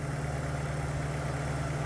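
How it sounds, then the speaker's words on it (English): A 1983 Porsche 944 engine idles with a steady low rumble and even throb in a parking lot, heard close and unbroken throughout. "the engine's sounding pretty good"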